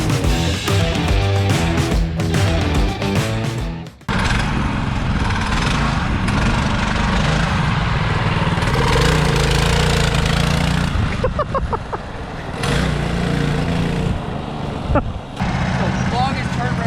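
A small engine on a go-kart built from a Yeti ice chest sputters and runs unevenly, with its rough buzzing drone cutting out and picking up again, and people talk over it.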